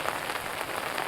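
Steady rain falls outdoors on rocks, a dense, even patter of drops spread across a broad hiss, close and constant with no talk.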